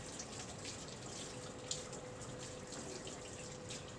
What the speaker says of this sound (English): I'm just gonna run it under some cold water to set it up